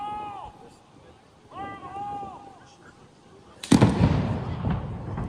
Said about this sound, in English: they can be heard shouting, "Fire in the hole," before an explosion was heard.